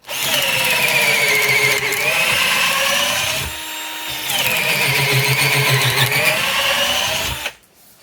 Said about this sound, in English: One more hole.